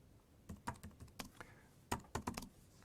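Someone types on a computer keyboard. Quiet, close key clicks come in two quick bursts separated by a short pause, with no talk.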